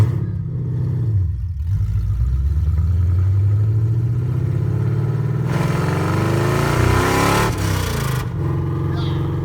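A Coyote-swapped wagon idles, then revs and accelerates on its first drive, with a loud, rising and falling engine note and clattering mechanical noise throughout, close to the listener.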